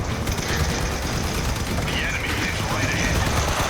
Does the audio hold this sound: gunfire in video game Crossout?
yes